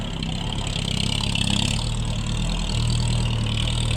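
A motorcycle carrying a load runs steadily close by, a loud continuous engine drone with a slight rise in pitch midway, no voices.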